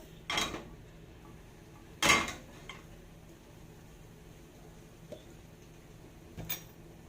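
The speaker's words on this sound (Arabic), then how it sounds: "هنرص قطع البانيه زي ما انتوا شايفين كده" Breaded chicken panné pieces, oiled in their marinade, are laid one by one into a hot pan for oil-free cooking: a few distinct clattering knocks and clinks spaced over several seconds against a quiet kitchen background.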